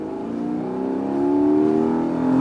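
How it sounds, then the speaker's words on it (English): A 2022 Porsche 718 Boxster GTS with its 4-liter flat-six and PDK gearbox revving in sport mode, a loud, steady engine note that rises in pitch and swells, heard alone without talk. "that 4-liter flat six, it sounds so good"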